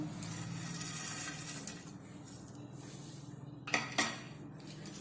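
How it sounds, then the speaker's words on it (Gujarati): A metal spoon scrapes and clinks against a pot, pressing wheat-flour vermicelli under boiling water, with soft bubbling underneath and two sharper knocks near the end. "અને આ રીતે ચમચીની મદદથી દબાવીશું જેથી પાણીમાં સારી રીતે ડૂબી જાય"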